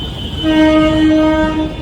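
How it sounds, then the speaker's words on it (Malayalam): A Vande Bharat train horn blares loudly and close by, one sustained tone with a brief break, over the rumble of the train pulling in. "വന്ദേ ഭാരത് എത്തിയിട്ടോ ട്രെയിൻ എത്തിയിരിക്കുകയാണ്"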